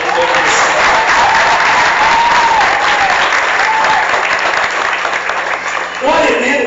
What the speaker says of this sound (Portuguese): Dá um aplauso forte para o Senhor